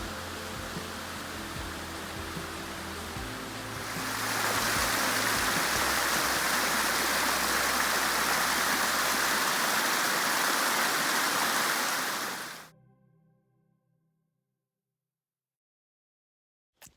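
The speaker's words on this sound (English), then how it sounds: "I hear water running, so must be a little waterfall up here." Rain runoff pouring down a small waterfall on a mountain trail, a broad steady rush of water that swells louder partway through, then cuts off abruptly into silence.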